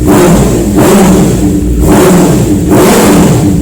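A Honda CBR650R motorcycle engine revs hard close by, its roar rising and dipping in about four rhythmic throttle bursts.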